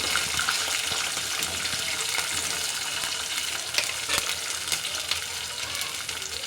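Cluster beans and garlic sizzling in hot oil in a pan, a dense, steady hiss holding evenly throughout with faint crackles, close and continuous with no voices.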